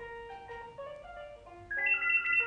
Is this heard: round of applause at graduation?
no